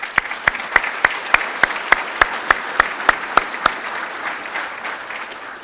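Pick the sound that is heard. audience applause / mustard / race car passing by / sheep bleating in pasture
audience applause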